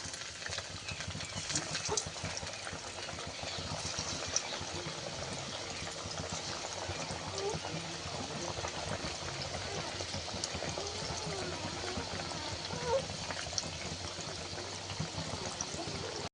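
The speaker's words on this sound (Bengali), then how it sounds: "এবার ওর মধ্যে দিয়ে কোপ্তাগুলো ভেজে নেব।" Raw banana kofta balls sizzle in hot white oil in a kadai, a steady dense crackle of frying that holds evenly throughout with no voices.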